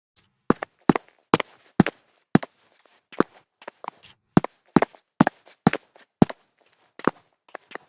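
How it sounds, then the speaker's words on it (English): Footstep sound effects built for sound design: a steady run of about seventeen crisp, close, dry footfalls, evenly spaced with a walking rhythm and nothing else around them. "we're only looking at the footsteps here"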